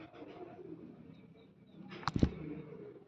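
Soft, low pigeon cooing in a quiet space, followed by a brief sharp knock and a short flutter near the end.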